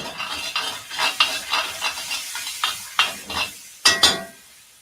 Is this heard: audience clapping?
no